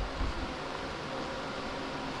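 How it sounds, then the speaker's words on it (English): A fan running in a workshop to pull out gloss paint fumes during a car repaint, producing a steady, dense whooshing hum that fills the whole short stretch with no talk. "I got that fan going just to pull the fumes out of here."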